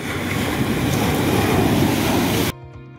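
Sea waves break and wash up on a stony beach at Dibba, Fujairah, a loud steady roar of surf with wind buffeting the microphone, cutting off abruptly near the end.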